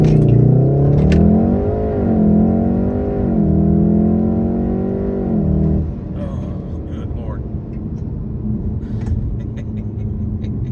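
A Volkswagen Golf R with a Stage II tune revs loudly and surges forward in a launch-control start, a rising roar that swells for several seconds before settling into a lower rumble.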